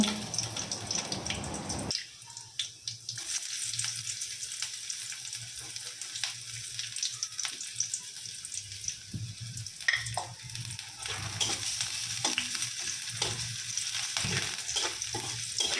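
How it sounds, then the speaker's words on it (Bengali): Chopped garlic and onion sizzle steadily in hot oil for oats khichuri, with scattered scrapes and taps of a spoon stirring the pan, close and moderately loud. "একটু সামান্য রসুন কুচি আর সামান্য পেঁয়াজ কুচি দিয়ে একটু নেড়ে চেড়ে নেব"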